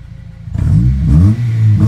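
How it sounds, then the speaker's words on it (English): An Acura RSX Type S with no muffler revs up close by, its raspy exhaust climbing quickly from idle into a loud, rising, buzzy roar that holds for a second and then dips briefly. "I'm gonna give you a sound clip of the exhaust."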